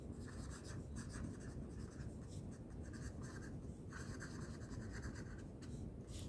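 A pen writes steadily across paper as numbers and labels are jotted horizontally in a math exercise, a continuous close scratchy rustle with brief pauses between strokes, heard alone.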